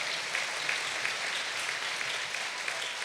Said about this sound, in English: We can do like a golf clap for each person.